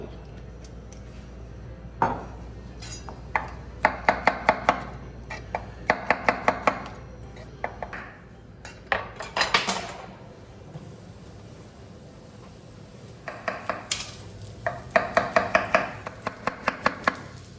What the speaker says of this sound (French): On commence à couper les champignons et huiler la poêle.